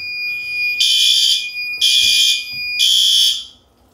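A fire alarm set off from a pull station blares in three long, loud bursts with brief gaps between them, a harsh high-pitched electronic tone, then cuts off.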